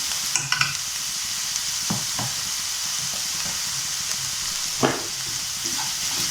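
Chopped onion and green chilies fry with salt in a pan, a steady close sizzle with several brief clinks and scrapes as the mixture is stirred, with no speech.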